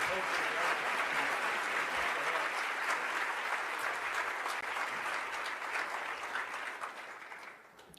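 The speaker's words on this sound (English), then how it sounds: "Let's give a final round of applause to all of our award recipients." Audience applause for award recipients at a military child education coalition event fills the hall, steady and dense for about seven seconds before tapering off at the end.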